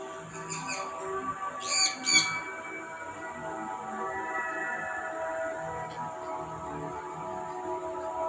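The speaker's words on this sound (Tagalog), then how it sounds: "Ang cute-cute ng mga mga ibon." Birds squawk and chirp in short bursts at Manila Ocean Park over a steady background hum. A few sharp calls stand out early before the scene settles into quieter ambience.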